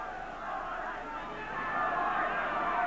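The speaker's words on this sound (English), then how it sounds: "this crowd has been noisy all afternoon" Crowd at a Doncaster versus Leeds rugby league match in 1994, a steady roar of many voices at a distance that swells slightly toward the end, with talk mixed in.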